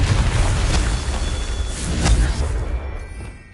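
A Confringo blasting spell from Hogwarts Legacy bursts with a loud, deep boom, followed by a rumbling swell and a second heavy blast before the sound fades into a low tail.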